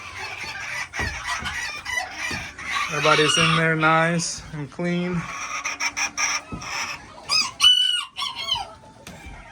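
Chickens cluck busily in a freshly cleaned coop while a splash rooster crows loudly nearby, several drawn-out calls amid scratchy rustling, and someone speaks briefly over the birds.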